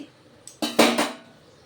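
A metal fork pokes into cooked semolina breakfast with potato stuffing in a pan, making a few close, sharp metallic clinks and scrapes against the pan in quick succession before fading.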